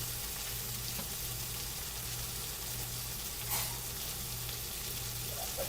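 Onion frying in a pan for a spicy chicken curry gives a steady, soft sizzle that holds evenly throughout, close up, with a low hum beneath and no talk.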